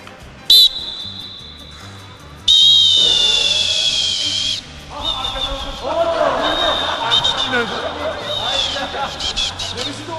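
A referee's whistle gives a quick short blip, then a long, loud, piercing blast, followed by a busy mix of shuffling, bumps and voices in the background.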